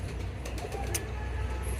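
A pigeon attacking another pigeon gives a few soft, low coos close by, rising gently over a steady background hum, with no talking.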